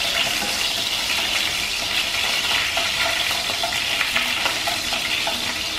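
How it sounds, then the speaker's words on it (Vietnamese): White onion heads fry in hot cooking oil in a pan, a loud, continuous crackling sizzle with occasional stirring scrapes and no voices. "Mình sẽ cho cái đầu hành trắng vô để mình chiên cho nó thơm"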